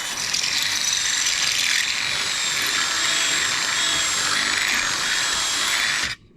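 A power drill with an 8mm bit opens up a hole during modifications on a Land Rover Discovery 3, a loud, steady grinding whine held for about six seconds before it cuts off abruptly.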